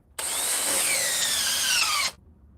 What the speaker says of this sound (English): try to drive the DeWalt one in further